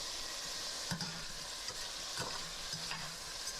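Chopped tomatoes hit a hot pan with crushed red pepper, a steady close sizzle and frying hiss broken by a few stirring scrapes, no voices.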